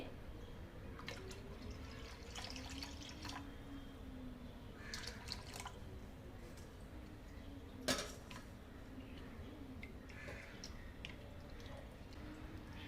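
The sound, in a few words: pouring water into kokum coconut milk mixture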